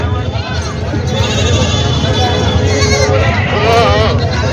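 Goats bleating over and over at a busy rural goat market in Vasmat, Hingoli district, several animals calling near and far over a steady babble of crowd talk.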